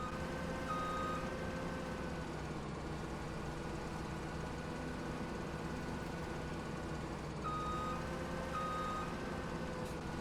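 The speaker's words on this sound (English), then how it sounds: "I love the sound of the Claas harvesters." A Claas Lexion combine harvester in Farming Simulator 17 runs with a constant loud engine drone and hum, with a faint repeating high beep over it and no voices.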